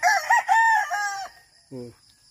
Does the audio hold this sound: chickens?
yes